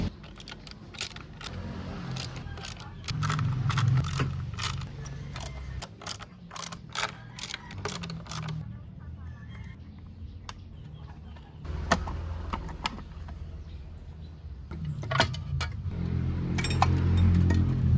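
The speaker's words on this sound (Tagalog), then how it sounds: "So gamit lang tayo ng 8mm para matanggal yung mga tornilyo dyan." An 8mm tool removes screws from the stock crankcase of a Honda Click scooter, giving a close series of ratcheting clicks and metallic mechanical rattles in bursts across the clip.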